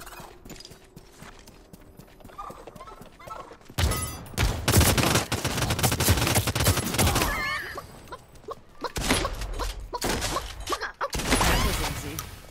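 Shotgun gunfire in a multiplayer video game: loud booming blasts in rapid bursts over a noisy battle mix, with heavy clattering and impacts.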